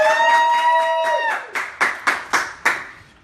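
One person claps their hands in self-applause at an indoor drone unboxing, five sharp distinct claps spaced unevenly after a fading tonal sound, close and fairly loud.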